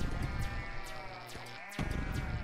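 Sheep bleating in the video game Deeeer Simulator, a loud, sustained, wavering bleat layered over dense game noise, with a brief break before the din resumes.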